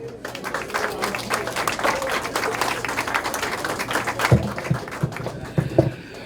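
An audience applauds author Marc Harvey at a book launch, sustained clapping from a crowd at moderate loudness that thins into scattered, sharper claps toward the end.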